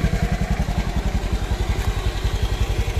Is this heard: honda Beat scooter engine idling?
yes